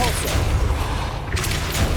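A Depulso force spell cast in the Hogwarts Legacy video game during a centaur ambush, a loud booming burst over a continuous rumbling game backdrop, with a second blast-like surge near the end.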